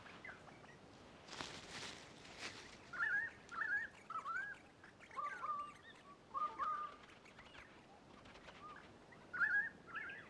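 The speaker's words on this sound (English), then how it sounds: "Crimson rosellas and currawongs search for seeds, nuts and insects amid the snow gums." Crimson rosellas and currawongs call among alpine snow gums, with a series of clear, whistled two-note calls repeating every second or so at moderate distance, alone against a soft outdoor background.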